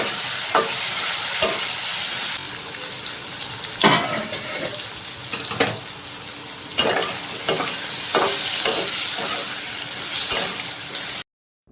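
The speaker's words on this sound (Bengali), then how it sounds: "নুন দিয়ে আলুটা একটু ভালো করে ভেজে নেব।" Potatoes with salt fry in a pan alongside green chillies, giving a loud continuous sizzle broken by repeated scraping and stirring strokes of a spatula, close to the microphone with no talking.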